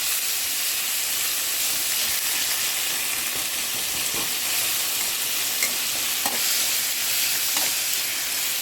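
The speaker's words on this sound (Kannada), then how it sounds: "ಆಮೇಲೆ 1 ಈರುಳ್ಳಿ, 1 ಟೊಮೆಟೊ, ಇದನ್ನು ಕೂಡ ಫ್ರೈ ಮಾಡುವ." Onion and tomato fry in a pan for a dry prawn sukka, giving a steady, dense sizzle and hiss throughout, with a few faint stirring taps near the end and no voices.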